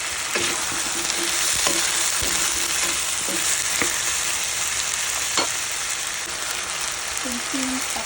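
Chicken curry fries in a pan with a continuous hiss and sizzle, broken now and then by sparse clicks and scrapes of a utensil stirring, heard close with no clear talking.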